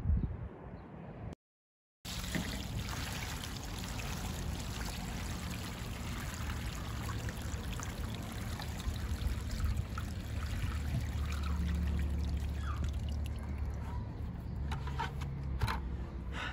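Water pours from a bucket onto the base of a tree outdoors, a steady, close splashing gush that runs on for about fourteen seconds after a brief silent gap at the start.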